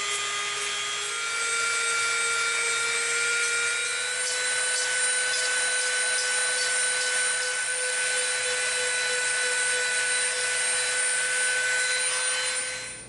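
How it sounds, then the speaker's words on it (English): A Dremel rotary tool grinds EVA foam smooth, giving a steady high-pitched whine with a tonal hum and a faint abrasive rasp that runs continuously for about twelve seconds, close and fairly loud, with no talking. "Let's see if maybe we can achieve that with our Dremel."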